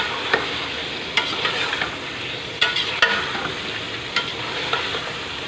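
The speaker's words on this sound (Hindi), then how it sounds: "ये थोड़ा 5 मिनट भूनेंगे इसको।" Chicken frying in a pan while being stirred, a constant close sizzle broken by sharp spatula clicks and scrapes against the pan, with no talking.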